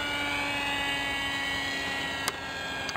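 Electric motor and propeller of a radio-controlled flying wing, likely a 4-cell setup, give a steady high-pitched whine with a continuous buzzing drone, fairly close and level throughout, with a brief click near the end.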